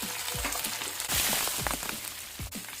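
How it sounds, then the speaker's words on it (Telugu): Onions and garlic fry in a hot pan with a steady, close sizzle, crackling dense and unbroken, with a few soft stirring knocks and pops scattered through it. "ఈ ఉల్లిగడ్డలు ఫ్రై అవుతున్నప్పుడే ఒక 4 వెల్లుల్లి వేసుకోవాలండి"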